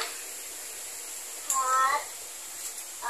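A single short cat meow sounds up close and clear over quiet background hiss, with no talking around it.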